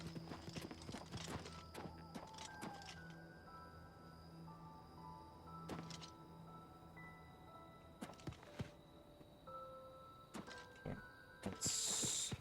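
A horse in an Elder Scrolls video game clip-clops steadily, its hoof thuds mixed with mechanical game clunks and a faint whinny, fairly quiet and close with no talking.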